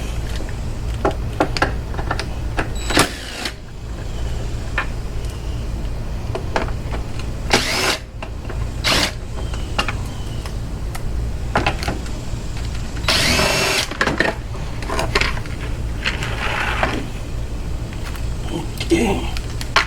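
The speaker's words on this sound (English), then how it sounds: "I gotta get the drill and take the cover off over here" A power drill runs in short bursts as the cover comes off a Yard Machines push mower, with loud whirring spurts over a steady low hum and people talking nearby.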